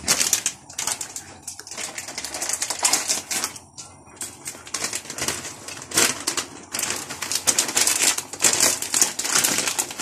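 A plastic bag of frozen mozzarella cheese crinkles and crackles up close, in a continuous run of sharp, irregular rustles with a few brief pauses and no talking.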